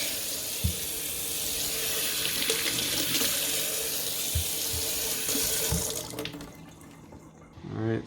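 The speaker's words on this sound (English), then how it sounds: "wash off some of the fruit" Water runs steadily from a kitchen tap while fruit is rinsed under it, a continuous splashing hiss with a few soft knocks, easing off near the end before a brief final splash.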